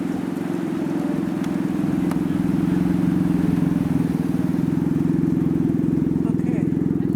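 Street drag racing in South Philadelphia near the sports stadiums: a loud engine roars steadily close by, a sustained throaty rumble with rising revs throughout.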